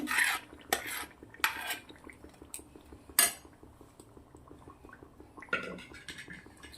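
A spoon stirs bottle gourd and chana dal in a metal pot, giving a series of scraping clinks at uneven intervals, fairly quiet with a soft background hum.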